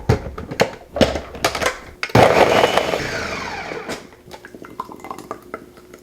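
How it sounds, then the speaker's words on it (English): Lemon lime sparkling water pours into a mocktail glass with a sudden steady fizzing gush, framed by sharp clinks and taps of glassware and ice before and after, close and fairly loud. "our final ingredient is gonna be some lemon lime sparkling water"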